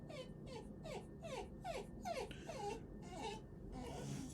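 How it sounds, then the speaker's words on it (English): A pet dog squeaks and whimpers indoors in a run of about eight short, high yelps that bend downward in pitch, close and fairly faint, with no talking. "Doggy's squeaking."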